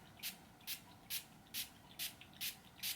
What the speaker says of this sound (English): Can you see how much of this I'm spraying?